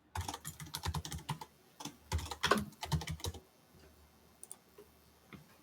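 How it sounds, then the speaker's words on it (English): Someone types a password on a computer keyboard: quick runs of close, crisp key clicks, then a pause and a couple of lighter taps. "type in the password"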